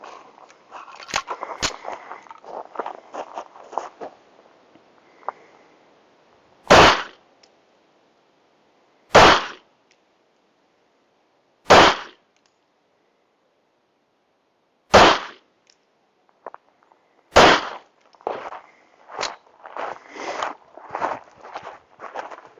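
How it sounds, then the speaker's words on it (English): A Tisas PX-9 Gen3 pistol fires five loud, sharp shots spaced a few seconds apart on a range, with quieter handling rustles and clatter before and after the string. "All we're going to do is do a 5-round group just to make sure the gun is accurate before we start torture testing it."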